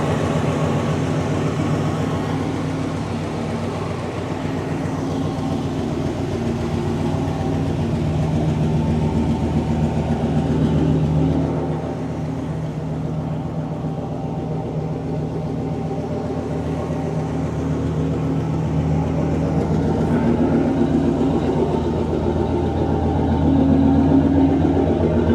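A 1977 Pontiac Bonneville engine runs steadily at idle, giving a low, constant rumble that holds at a fairly loud level with only slight swells throughout.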